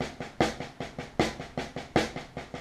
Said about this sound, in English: a paradiddle is a series of single strokes and double strokes put together